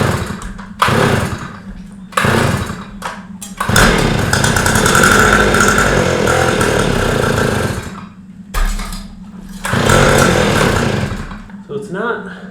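An abandoned rototiller's small engine fires in loud, rough bursts that catch, run briefly and die, with short gaps and stalls between the attempts.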